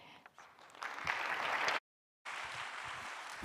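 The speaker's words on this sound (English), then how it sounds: "Once again, everybody, a huge round of applause." An audience at a musical stage show applauds, the clapping swelling from scattered hands into a steady, fairly quiet wash, briefly cut off before resuming.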